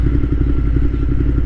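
Ducati Monster 1200S motorcycle engine rumbling steadily at idle or low speed, a loud, close, continuous low throb with faint clatter and no talk.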